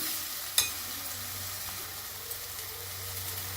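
Vegetables for pav bhaji, including capsicum, carrot, potato and cauliflower, stirred and mixed in oil in a pressure cooker, a soft steady sizzle with one sharp metallic clink near the start and quieter scrapes after.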